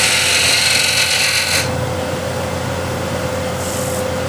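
A ball gouge with a steep bevel cuts wood spinning on a lathe, giving a loud, steady rasping hiss for about a second and a half that drops to the lathe's quieter hum.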